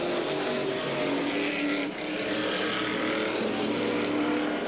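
Super stock race cars on the back straightaway of an oval track, a continuous loud engine roar that holds steady with a brief dip partway through.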